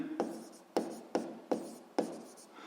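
Writing the conservation law on a board, five quick scratchy marker or chalk strokes in an uneven rhythm, close and fairly quiet, with no voices.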